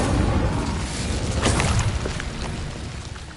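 In Hogwarts Legacy, the Incendio fire spell goes off as a loud, rumbling whoosh-boom of flame that hits with a sharp burst in the middle and slowly fades, surrounded by dense game noise.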